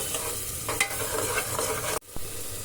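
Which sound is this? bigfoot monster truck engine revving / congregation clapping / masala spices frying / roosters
masala spices frying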